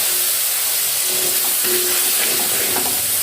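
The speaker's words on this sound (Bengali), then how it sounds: "টমেটোটা দিয়ে দিচ্ছি, সামান্য পরিমাণ জল দিচ্ছি মশলাটা যেন পুড়ে না যায়" Tomato and spices in a hot pan hiss and steam loudly and continuously as water is poured in, a close, dense sizzle with no speech.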